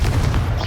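A Confringo blasting spell explodes in Hogwarts Legacy, a dense low boom that fills the whole short moment at steady loudness with no pause.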